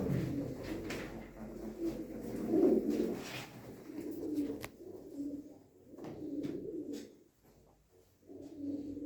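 Breeding pigeons kept for a bird auction coo softly in a quiet indoor space. The low, rolling calls repeat in uneven bursts, with a few clicks and knocks between them.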